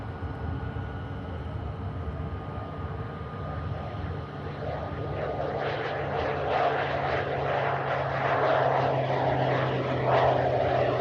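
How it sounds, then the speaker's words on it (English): A small propeller aircraft runs at Manchester Airport in rainy weather, its engine drone steady and moderately distant. The drone grows a little louder over the last few seconds. "That's a neat looking aircraft"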